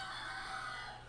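Chickens in a video game cluck and a rooster crows, faint and steady against a constant background hum, with no talking.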